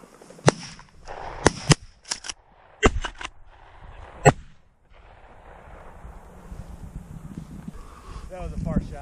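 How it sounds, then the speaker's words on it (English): Shotgun blasts while pheasant hunting on public land, several sharp loud reports spaced irregularly over the first half, followed by wind and rustling outdoors. "That was a far shot, I think."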